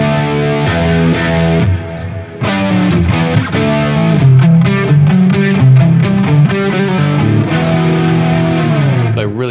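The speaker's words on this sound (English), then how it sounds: "I'm going to boost my Vemoram Janray with a BK Butler 2 driver and play some more rocking riffs." Nik Huber Dolphin 59 electric guitar on the bridge pickup, run into a high-gain amp boosted by an overdrive pedal, plays loud, distorted rock riffs of chugging chords and sustained notes, alone with no talking.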